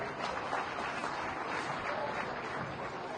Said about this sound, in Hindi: बंगाल फाइल्स हमारे गिरिराज दा के लिए एक बार जोरदार ताली